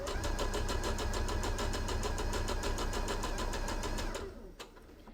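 A sewing machine stitching felt runs steadily with a fast, regular mechanical needle rhythm, close and continuous, then slows and stops near the end.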